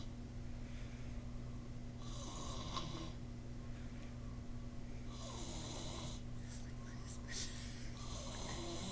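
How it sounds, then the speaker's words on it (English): A person snoring at the Luther, with repeated rasping breaths about every two to three seconds over a steady low hum and room noise, some snorts louder than others. "Do a lot of people snore that stay here at the Luther?"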